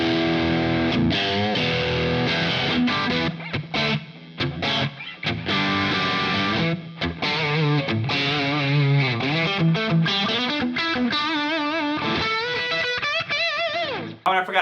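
Heavily distorted single-coil electric guitar through an amp on its highest gain setting with a boost, thick high-gain crunch, sustained chords and single-note runs playing continuously and loudly for the whole stretch.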